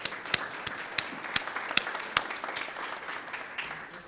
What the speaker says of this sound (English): I think you deserve some applause right now for this.